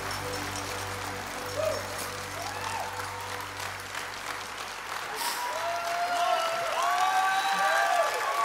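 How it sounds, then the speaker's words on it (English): Church congregation clapping together at a worship service, a steady crowd applause that holds for the whole stretch and swells louder toward the end, with some whistles or cheering faintly mixed in. "I don't know why you guys are clapping."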